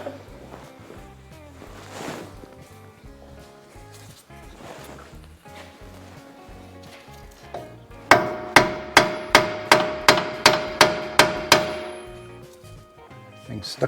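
A series of about a dozen sharp metallic hammer taps in quick, steady rhythm, close by, on a stuck ball joint of a Ford Ranger or Mazda B4000, following a stretch of quieter clattering handling noise.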